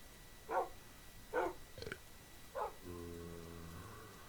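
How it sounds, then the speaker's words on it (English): Minecraft dogs, modded All The Mods 3, give three short, quiet barks spaced apart, followed by a brief whimpering tone and a sustained low hum. "I'm pretty sure that's all of my dogs."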